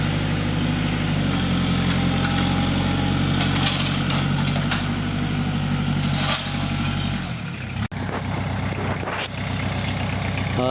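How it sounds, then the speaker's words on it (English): A Kubota L45 tractor works perpendicular to a road while cleaning out a ditch, its diesel engine a loud, steady drone that shifts pitch partway through, with a brief sharp knock near the end. "Here the tractor is working perpendicular to the road to clean out a portion of the ditch"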